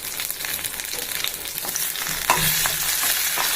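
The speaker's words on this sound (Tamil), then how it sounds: "போட்டு நல்லா வதக்கி விட்டுருவோம் ரெண்டு தக்காளி எடுத்து அதுவும் போட்டு வதக்கிக்கிடலாம்" Onions and tomatoes sauté in a pan for a South Indian dish, giving a steady, close frying sizzle with occasional stirring scrapes and no talking.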